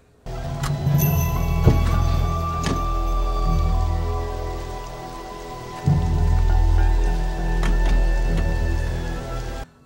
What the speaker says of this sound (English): Here it's raining.